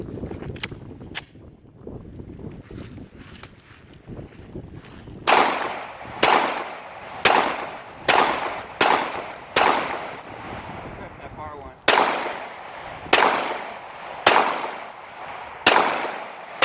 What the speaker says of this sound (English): So let's put some rounds down range